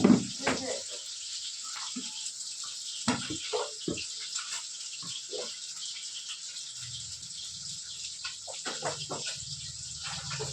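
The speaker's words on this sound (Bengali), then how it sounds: "সেদিকে ভাতটা হয়ে গেছে গড়িয়ে দেবো" Water pouring out steadily in a continuous hiss as it is drained from a pot of cooked rice, with a few clatters of the pot and a faint murmur in the background.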